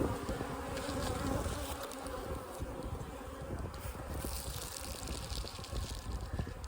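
A honey bee colony hums in a dense, steady buzz close by, a continuous busy drone of many bees with no voices.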